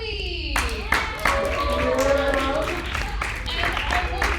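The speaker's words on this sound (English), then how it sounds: "let's give a round of applause for Chloe." A college audience applauds a student performer, a short burst of scattered hand clapping that swells and then thins out, heard at moderate distance with a voice talking over it.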